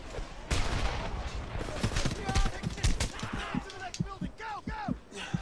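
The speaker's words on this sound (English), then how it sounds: "Heavy fire on my position." A Homefront firefight rattles with dense automatic rifle bursts and sharp impacts close at hand, continuous across the scene while people speak over the shooting.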